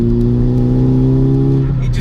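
A VW Golf Mk5 GTI running a swapped 400 bhp Audi S3 engine with an aftermarket exhaust holds a loud, close, steady engine drone that climbs slightly in pitch, with a person talking over it.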